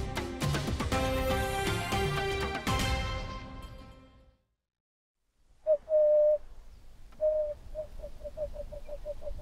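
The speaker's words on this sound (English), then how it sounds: "Hear it. Emerald spotted wood dove. It's a sad song." An emerald-spotted wood dove calls in Africa: after a burst of loud music and a moment of silence, a clear, moderately loud coo is followed by a run of soft, evenly repeated notes that quicken toward the end.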